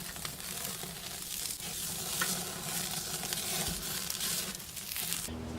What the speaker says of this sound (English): just turn these oxtails, ribs, and the roast to get each side a little bit charred up